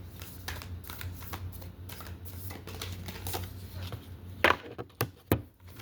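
A deck of tarot cards is shuffled by hand, with rapid soft riffles and taps building to a few sharper snapping slaps near the end, and no speech.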